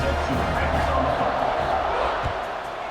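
A steady crowd roar rises from the home stands in the College Football 26 video game, a broad continuous cheer running under a commentator's voice.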